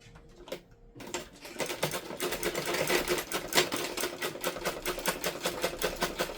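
Sewing machine running steadily while stitching a three-layer dress, a fast even rattle of needle strokes that starts after a second of quiet and carries on close and loud.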